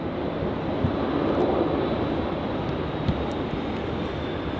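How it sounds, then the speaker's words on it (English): A Qantas Boeing 717-200 airliner arriving from Canberra lands on runway 34 at Melbourne Airport, its engines a steady, broad, distant roar that persists throughout with no talk. "we've got a Qantas flight QF 1515 from Canberra coming in now on runway 34."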